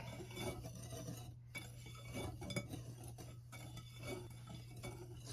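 Ingredients for homemade cornbread whisked in a bowl, a steady scraping clatter of whisk against the bowl with light clinks, close and fairly quiet over a constant low hum.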